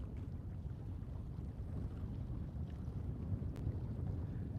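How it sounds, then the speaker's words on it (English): Waves lap against the rocks at a Lake Superior harbor lighthouse on a breezy, cool morning, a steady low wash with wind buffeting the microphone throughout and no talking. "Hear the water. Waves running up against the"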